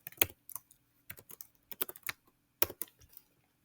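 A calculator's buttons are pressed in a quick irregular run of light clicks, close and clear in a quiet room.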